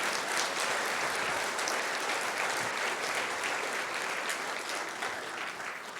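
Loud, dense applause from a church congregation at a Spanish-language service, steady and sustained for the full six seconds with no voices over it.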